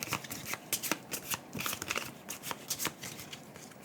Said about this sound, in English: the rest of these would be shuffled back into the deck